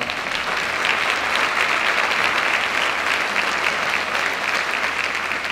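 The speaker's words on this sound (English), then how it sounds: "Big round of applause for Sean." Dense, steady applause from a school audience honoring a high school leader, a continuous wash of many hands clapping at even loudness with no voices.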